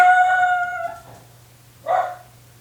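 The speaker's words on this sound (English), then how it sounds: "please excuse my dog, of course, at the worst possible time" A pet dog lets out a long, wavering howl that tapers off, then a shorter second cry, loud and close indoors with no talk.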